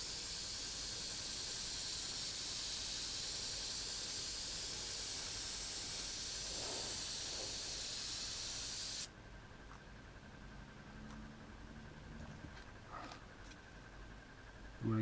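Spray paint hisses onto Tamiya 1/12 Ducati 916 model parts in one long, even burst lasting about nine seconds, then cuts off, leaving faint handling noises and a few short taps.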